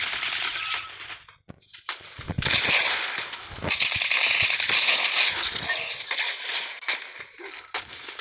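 Rapid automatic gunfire from a video game weapon, dense bursts of shots with short gaps, loud and close throughout.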